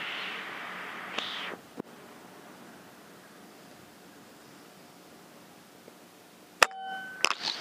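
Sharp shots from a Destroyer-500 plenum air rifle: a faint click, then a crisp snap, then two louder close cracks near the end, with a quiet outdoor hush in between.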